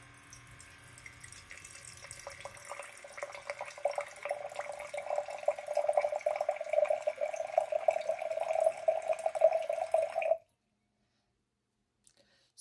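KOUDGY desktop water dispenser drawing water from a bottle: a soft start, then a steady humming pump whine with trickling flow that builds and cuts off abruptly, followed by silence.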